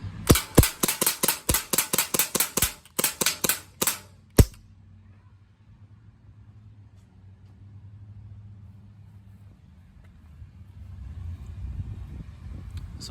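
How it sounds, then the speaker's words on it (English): An Umarex CO2 airsoft BB gun is mag-dumped, with about fifteen loud, sharp pops fired in a rapid, slightly uneven burst that ends in a final shot, followed by quiet low rumble and faint background noise. "now I'm about to mag dump the gun"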